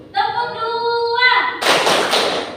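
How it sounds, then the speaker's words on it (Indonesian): After a drawn-out voiced call in a classroom, a group of children claps together, producing a couple of loud, crisp bursts close by in the last second. "Tepuk 2."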